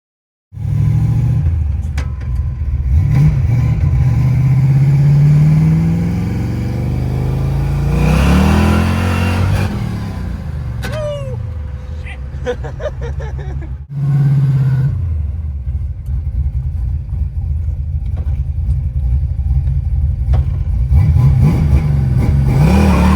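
A Ford Foxbody Mustang with a stock bottom end roars on nitrous, loud and near, holding hard revs that rise and fall across several long pulls with a brief dip between.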